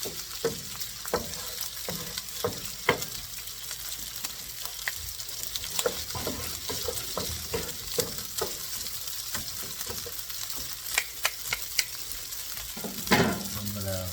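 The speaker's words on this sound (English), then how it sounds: "we are going to stir and warm up the rice" Cold leftover rice for shrimp fried rice being stirred and reheated in a hot pan, with a continuous sizzle and frequent sharp spatula scrapes and taps against the pan, close and alone.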